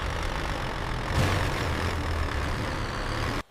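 A Tata timber truck labours up a muddy slope with its engine droning steadily at a heavy, low pitch, holding strong and continuous before cutting off abruptly at the end.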